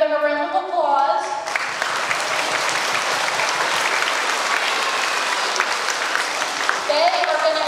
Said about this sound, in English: Right here, we're going to give them a round of applause.